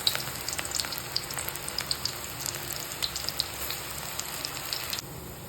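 Bajji batter frying in hot oil over a medium flame, a steady close sizzle with scattered sharp crackles and pops throughout, quieting slightly near the end, with no talking.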